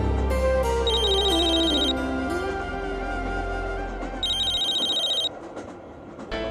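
A mobile phone rings with a bright electronic ringtone, a tonal melody with repeated high chirps that plays loud and alone for several seconds before cutting off.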